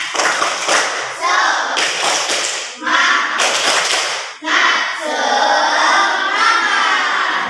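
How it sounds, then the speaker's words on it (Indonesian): A class of Indonesian schoolchildren claps out the rhythmic 'tepuk semangat' chant, sharp bursts of clapping alternating with short gaps. Loud children's voices chant along between and over the claps. "mari kita tepuk semangat dulu. Tepuk semangat."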